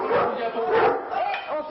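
A powerful Dogo Argentino and American boxer cross, cornered in an enclosed space by police with a catch pole, barks and yelps under a voice talking over it.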